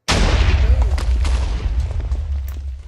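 A TNT cannon firing in Minecraft, one sharp loud blast that booms out and decays over a couple of seconds, with faint crackling pops trailing after.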